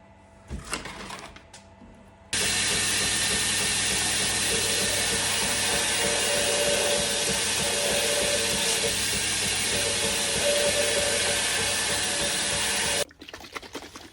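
A belt grinder sands the curves of a kitchen knife blade, a loud continuous abrasive hiss that starts abruptly, runs steadily for about ten seconds, then cuts off.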